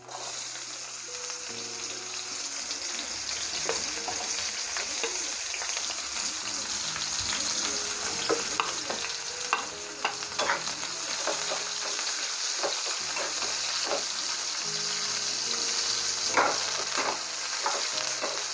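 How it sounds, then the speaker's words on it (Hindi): Long-sliced onions frying in oil in a pan, a dense continuous sizzle with repeated stirring scrapes and clinks, close and steady throughout. "हमने 3 प्याज को ऐसे ही लंबे लंबे टुकड़ों में काट के रखे थे, उसको पहले हम फ्राई कर लेते हैं।"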